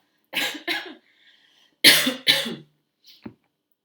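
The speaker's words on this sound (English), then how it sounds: "let me just have a couple of coughs here and there" Two pairs of sharp, close coughs, each a quick double burst, separated by a short pause and followed by a faint throat sound.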